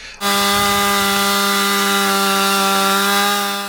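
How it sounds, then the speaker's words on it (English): A chainsaw starts abruptly and runs at a steady high whine while clearing debris on a beach, loud and close, holding one pitch for a few seconds before easing slightly. "the ear-splitting disruption of chainsaws clearing long-ignored debris"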